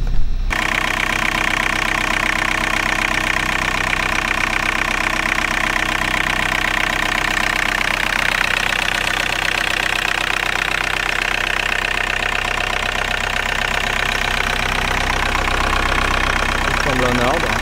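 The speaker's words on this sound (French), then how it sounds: "regarder un peu le moteur qui tourne" A cold 2004 Toyota Corolla 2.0 D4-D diesel engine idles steadily with a rattling diesel knock, loud and continuous from start to finish, with occasional faint sounds near the end.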